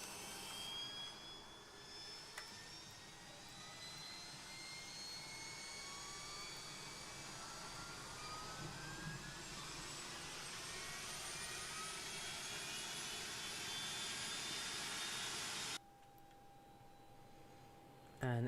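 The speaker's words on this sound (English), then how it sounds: "APU now revving up." Auxiliary power unit spooling up on a ToLiss A319 airliner in the X-Plane 11 flight simulator, a rising whine and rushing roar that builds steadily for about sixteen seconds before cutting to a quieter cockpit hum.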